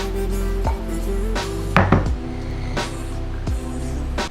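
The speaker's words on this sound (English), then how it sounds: "This is what good oats sounds like" Oats with peanut butter being stirred in a bowl: a series of thick, sticky scraping and clacking strokes from a utensil, irregular and close, with no talk.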